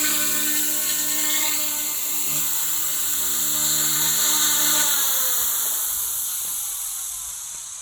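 A YUXIANG F09-H GPS radio-controlled helicopter flies nearby, its high-pitched rotor and motor whine holding steady and loud before easing off slightly toward the end, with no talking.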